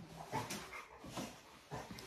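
Newborn puppies in a carrier with their mother give several soft whimpers and yips, close by, in short bursts with brief pauses between them.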